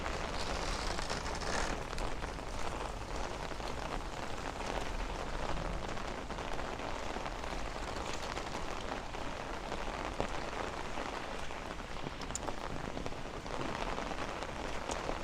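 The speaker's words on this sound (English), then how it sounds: "And this rain is going to stop soon" Heavy rain pours steadily during a severe thunderstorm in Bensonhurst, Brooklyn, with damaging winds, a dense continuous hiss on pavement and surfaces that stays loud and even throughout, with no voices.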